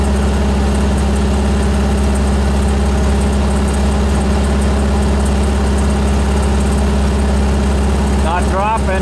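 A VW 1600 engine holds a steady 2,000 RPM under load on a downhill test run, a loud, continuous drone with a deep, even hum that never changes pitch, heard up close with no talk.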